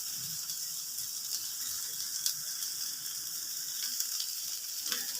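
Radish greens (mulo shak) sizzle and fry in a pan over a gas flame, giving a steady, close hiss with faint scraping clicks and no talk.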